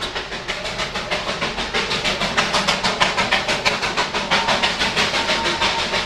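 Darjeeling Himalayan Railway steam train chugging through a hillside settlement, a rapid, regular puffing exhaust beat that builds steadily in loudness, close and without talk.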